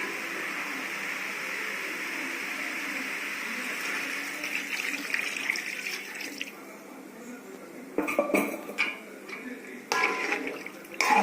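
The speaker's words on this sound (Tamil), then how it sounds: "நம்ம கொஞ்சம் தண்ணி ஊற்றிக்கலாம்" Water pours steadily into a pan of frying pork for several seconds, then splashes and clatters briefly at the end, fairly close.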